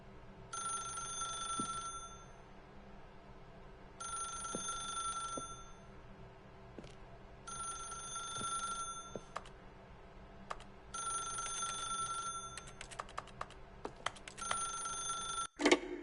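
Telephone ringing in the video game The Stanley Parable, an electronic bell ring in repeated bursts of about two seconds with short pauses between them, with a few faint clicks, heard alone.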